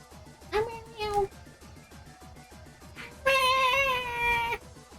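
A human voice imitates a cat, giving two drawn-out meows, the first short and the second longer and louder, with a clear pitched, meow-like tone over quiet background sound.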